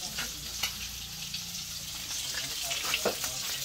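Fish sizzles steadily in a frying pan, a continuous crackling hiss with occasional louder pops and stirring sounds close by, with faint voices in the background.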